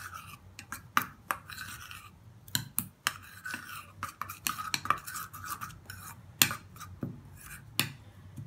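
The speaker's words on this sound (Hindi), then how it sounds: "और इसे हम मिक्स करेंगे अच्छा सा।" A homemade anti-wrinkle face scrub mixture stirred by hand, with close, uneven clinks and scrapes of a utensil against its container in quick, irregular bursts, and no one talking.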